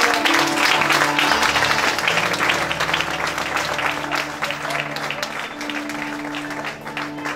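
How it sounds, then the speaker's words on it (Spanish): A church congregation claps for the Lord at the inauguration of a new temple, a loud, dense burst of applause that thins slightly over time, with sustained musical tones and a few voices underneath. "Puede darle un aplauso al Señor"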